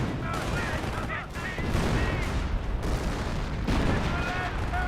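Artillery barrage in the World War II strategy game Company of Heroes, a dense, continuous roll of overlapping blasts and gunfire at steady loudness for several seconds, with a voice speaking over it.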